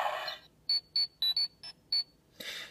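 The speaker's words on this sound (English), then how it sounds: "Doesn't really make sense to do the communicator beep when they didn't use the communicator beep in SPD" Electronic beeps from a Power Rangers Super Megaforce zord toy communicator: six short, clean tonal beeps in an irregular rhythm, close and clear, between bursts of handling noise.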